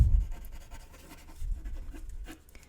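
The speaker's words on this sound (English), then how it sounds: "I'm going to go ahead and add some scratchy yellow down here as well." Colored pencil scratches quickly on paper in short, rough strokes, close and fairly quiet, with no talking over it.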